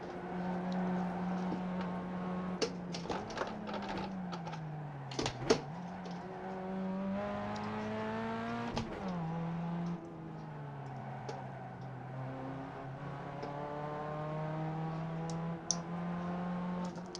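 Pontiac Solstice race car engines in the iRacing racing game drone steadily, with pitch rising and dropping through gear changes and corners, plus a few sharp clicks and knocks along the way.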